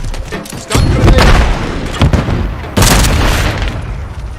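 A stun grenade goes off in a multiplayer shooter video game: loud booming bursts, with a sharp blast near the start and another about two seconds later over a dense rumble of gunfire, while game voices call out over it.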